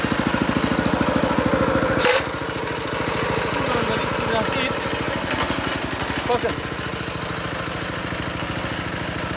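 A Kaan 250 S 7 HP petrol tiller engine runs steadily and loudly throughout, its rapid even firing pulses continuous, with a brief sharp knock near the start and someone talking over it.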